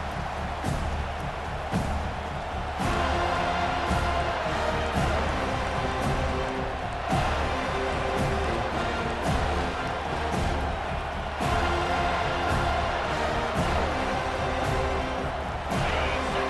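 Stadium crowd roaring and cheering at a college football game in EA Sports College Football 25, a dense, loud, continuous wall of crowd noise with surges and band-like tones underneath.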